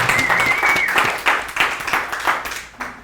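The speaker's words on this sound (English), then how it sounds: "Let's give her a round of applause." An audience in a networking seminar room claps for a participant, a short burst of dense, fairly close applause that swells and fades over a few seconds.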